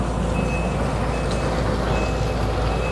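A dredging truck reverses at an excavation site, its high backup beeper repeating steadily over loud, constant engine rumble and outdoor noise.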